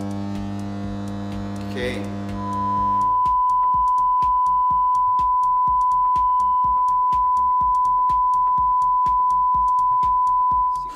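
Steady 100 Hz test tone driven through a QSC USA 1300 professional power amplifier, a loud continuous hum with a rhythmic pulsing beat that follows a brief spoken word.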